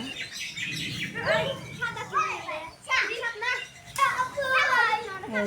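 Grandchildren shout and chatter while playing outdoors, their voices loud and close in overlapping bursts, with birds chirping faintly in the background under an overcast sky.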